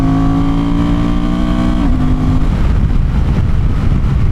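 A Honda Transalp 750 motorcycle engine revs steadily, its harmonic drone dropping in pitch midway before settling into a rough, continuous rumble; no voices.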